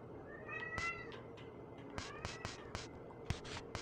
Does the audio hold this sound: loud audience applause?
no